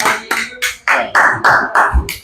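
A small group claps for a rapper in about eight distinct, evenly spaced bursts, close and fairly loud, with no voices over the applause.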